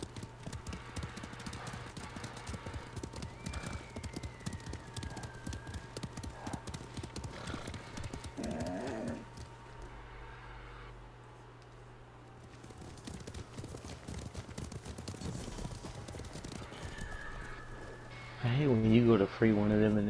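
Horses gallop in the Ghost of Tsushima video game, a fast, continuous clip-clop of hooves that thins briefly midway, with a horse whinnying near the end and people talking over the riding.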